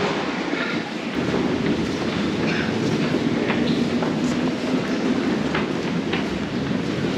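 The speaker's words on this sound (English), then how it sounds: "As we change lines onto the Central line and head eastbound towards the next station" A London Underground Central line train runs eastbound through a tunnel, a loud continuous rumble and roar with faint rhythmic clicks from the wheels on the track.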